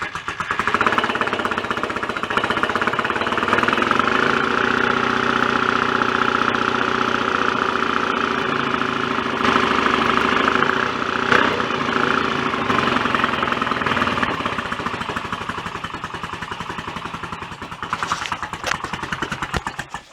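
A rebuilt BSA A65 motorcycle engine runs with retarded ignition timing, giving a loud, close, steady throbbing idle with a rough knocking edge that holds for most of the run before faltering and sputtering near the end.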